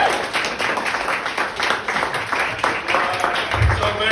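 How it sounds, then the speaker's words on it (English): A comedy show audience applauds a stand-up act with dense, continuous clapping that holds steady throughout, close and fairly loud. "round of applause for Kyle Legacy"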